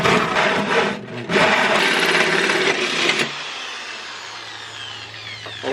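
A hole saw cutting into a drift car's body panel, a loud grinding, rasping cut for about three seconds with a brief stutter, then the tool winding down to a lower hum.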